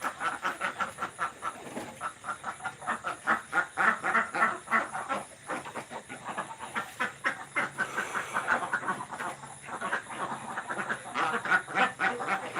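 A flock of ducks quacks constantly, many overlapping calls forming a loud, busy chorus that barely pauses.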